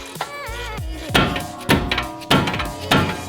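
A hammer delivers a series of sharp metallic taps to knock a tie rod end loose on a BMW 340i, about four or five close, distinct strikes in uneven rhythm with a short creak between them.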